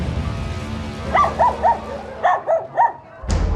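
Two bursts of three sharp barks each from a dog nearby in a residential compound housing many pet dogs, over a low steady hum, followed by a sudden louder noise at the end.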